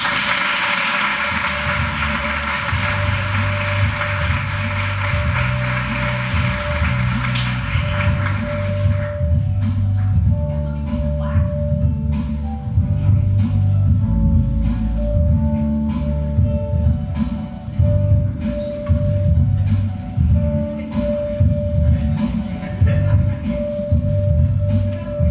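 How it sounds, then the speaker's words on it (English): An audience at a teacher of the year ceremony applauds loudly and steadily for about nine seconds. The clapping is followed by steady tonal music with rhythmic tapping that carries on after it. "Can we get one more round of applause for Ashley?"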